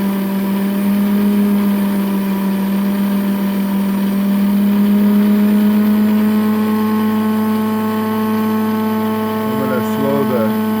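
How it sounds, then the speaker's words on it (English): A rose engine lathe spindle turns steadily while decorating a bowl, holding a constant mechanical hum with sustained tonal whine beneath it, and someone talks over part of it. "I'm going to slow the head down, the spindle, and I'm going to take another 15 thousandths."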